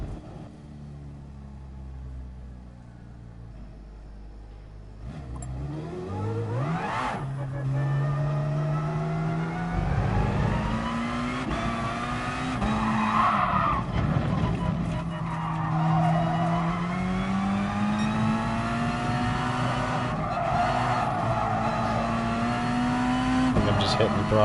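A car in GT Sport revs hard through rising and falling engine pitch while its tires squeal and skid, loud and close, with the throttle pushed aggressively for the whole stretch.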